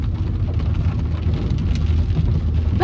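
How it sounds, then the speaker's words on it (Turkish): Heavy rain pours steadily and loudly, a dense continuous patter close by with a low rumble beneath, and no talk over it. "Fena yağmur yağıyor şu an."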